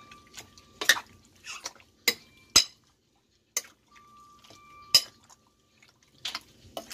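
A utensil clinks and scrapes against a pan as pork steak is stirred with soy sauce, giving sparse, sharp metallic taps and light wet stirring with pauses of near silence.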